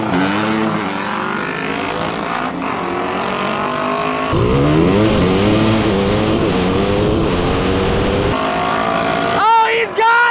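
A Honda Big Wheel with a 650cc engine revs hard up through its gears, its loud, close pitch climbing in repeated sweeps before a final sharp burst near the end.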